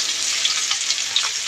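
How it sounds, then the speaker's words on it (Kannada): Chopped onions go into hot oil already holding mustard seeds and a couple of cut dried red chillies, giving a steady close, loud frying sizzle with small crackles and no talk. "ನೆಕ್ಸ್ಟು ಕಟ್ ಮಾಡಿರೋಂಥ ಈರುಳ್ಳಿನ ಹಾಕ್ತಾಯಿದ್ದೀನಿ."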